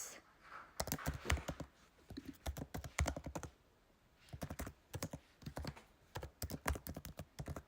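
Computer keyboard keys tapped in quick bursts while an email address is entered, close and fairly quiet, with short pauses between runs of clicks.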